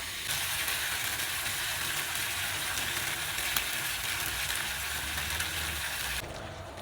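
Steady, close sizzling and hissing of cornmeal frying in a pan as water is added for kuymak, continuous and fairly soft, cutting off abruptly near the end.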